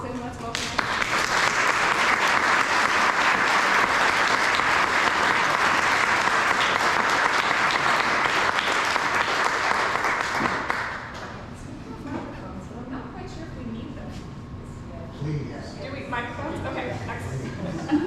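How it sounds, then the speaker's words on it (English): An audience at an architecture talk applauds in a dense, sustained burst of clapping for about ten seconds, then it fades out and room noise and talking carry on. "So please, a round of applause, and let's welcome"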